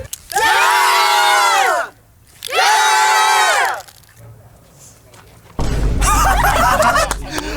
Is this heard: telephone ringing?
no